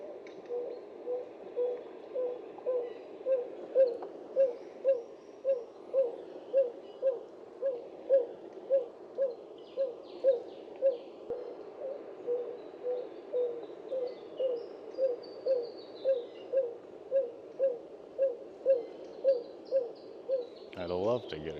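Playback of a Narina trogon call, a long series of soft, evenly spaced low hoots repeated at a steady rhythm, fairly quiet and outdoors, ending with a brief rustle.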